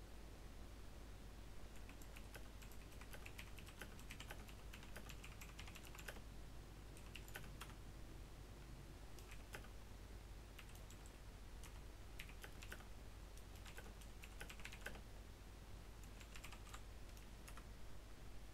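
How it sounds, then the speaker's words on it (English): Quiet computer keyboard typing comes in bursts of rapid keystrokes with pauses over a faint steady hum, during a Halo gaming stream on Xbox One. "I know you can hear my keyboard in the background."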